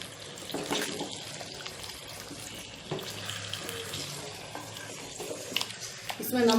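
Marinated chicken coated in yogurt, lemon and spices is stirred in a pan on a gas flame, giving a steady wet scraping and gentle sizzle that runs throughout, with a few louder scrapes.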